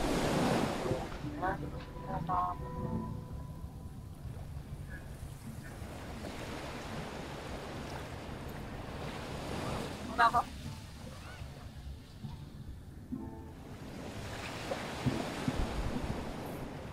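Ocean waves wash in a steady surf roar at the seaside, mixed with wind buffeting the microphone, with a few brief voices and clicks.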